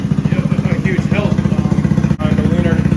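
A motorcycle with an upgraded carburetor idles steadily up close, a fast, even low-pitched putter that runs throughout, with someone talking over it.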